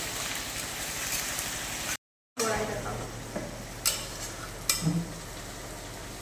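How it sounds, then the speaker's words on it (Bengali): Ginger and garlic sauté in a pan for a mutton dish, a steady sizzle and frying hiss broken by a brief silent gap, with occasional stirring scrapes and clinks of utensil against the pan. "আদা রসুনের কাঁচা গন্ধ চলে যাওয়া পর্যন্ত এটা আমি কষিয়ে নেব।"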